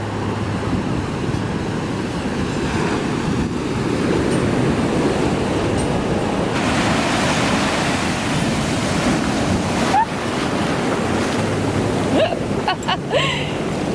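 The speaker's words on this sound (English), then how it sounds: "When none of the big waves come in till the very end and you get soaked." Ocean surf breaks on a private beach at a Sri Lankan resort, a continuous roar of waves with gusty wind buffeting the microphone and a few louder surges near the end.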